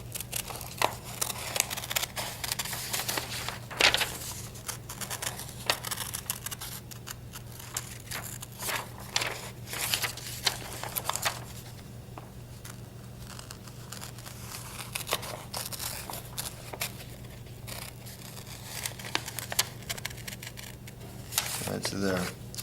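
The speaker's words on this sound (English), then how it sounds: "Cut out side A." Scissors snip through paper to cut out one side of a tessellation shape, giving scattered crisp cuts and crinkles over a steady low hum, with no talking.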